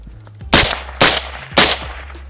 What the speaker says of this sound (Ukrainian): Зараз перевіряємо працездатність буквально трьома пострілами.